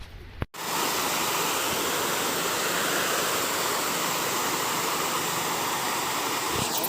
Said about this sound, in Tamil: தண்ணி அழகாக ஓடுதா